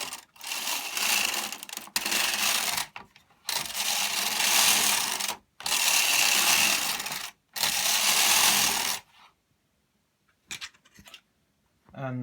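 A knitting machine carriage is pushed back and forth across the needle bed for four passes, each a sustained rasping, whirring slide about one to two seconds long with brief pauses between. It then goes quiet, followed by a few small clicks.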